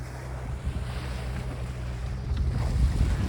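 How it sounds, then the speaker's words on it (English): Ocean waves wash around a boat in Antarctic waters, a steady low rumble of water with wind buffeting the microphone, swelling a little louder toward the end, with no voices. "Oh, there's the waves."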